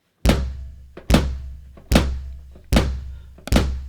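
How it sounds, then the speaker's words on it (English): Kick drum pad on a Strata Prime electronic drum kit struck five times at a steady pace, each a close, solid thud with a short decay, with no other sound between hits. "So let's start by hitting something like my kick drum."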